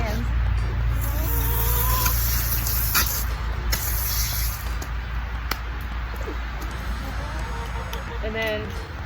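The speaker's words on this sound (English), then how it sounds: "I'm gonna hose off my hands." Garden hose spraying water over hands after cleaning sunfish outdoors, a steady close splashing hiss with shifting flow and a low rumble underneath, while a person talks over it and birds chirp faintly.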